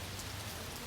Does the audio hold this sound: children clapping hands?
no